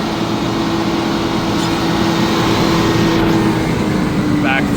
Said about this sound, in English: I'll turn the pump off now.